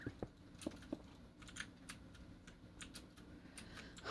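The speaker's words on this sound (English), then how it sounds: "Clicky clacky keyboard noises." Typing on a clicky computer keyboard during a Minecraft livestream, a quiet, irregular run of sharp key clicks, close and faint, with brief pauses between bursts.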